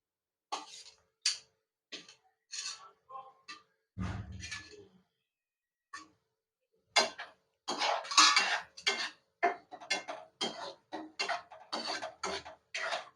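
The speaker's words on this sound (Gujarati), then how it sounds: "તો હવે આપણે આ ગુંદા નાખશું આમાં" Gunda glue berries dropped and stirred into gravy in a metal pan, a series of sharp clinks and scrapes of spoon against pan, close and irregular, with a brief low clatter midway.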